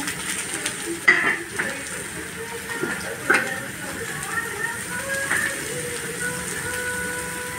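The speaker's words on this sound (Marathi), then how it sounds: "आता मी हे सोयाबीन टाकते" Soya chunks drop into a pan of ginger-garlic paste and are sautéed, giving a soft sizzle with a few sharp clinks of spoon against pan, close by, as someone talks over it.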